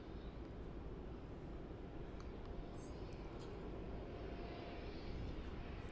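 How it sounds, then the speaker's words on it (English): A China Southern airliner taxiing across runway 27 at Melbourne Airport, Australia, heard as a steady, broad jet engine rumble with a constant low roar throughout, fairly distant and without talk. "China Southern 78's just crossing runway 27 now"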